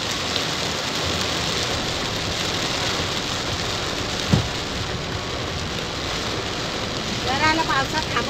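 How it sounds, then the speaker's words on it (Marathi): Heavy stormy rain pours steadily in Konkan, a dense, loud, unbroken hiss of rainfall on surfaces with a single sharp knock midway and a brief faint chirping near the end. "पाहू शकता तुम्ही असा हा तुफानी पाऊस रात्रभर आणि पूर्ण दिवसभर पडतोय"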